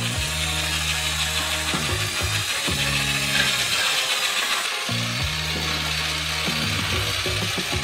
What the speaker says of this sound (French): Et mélangez avec un batteur de chantier.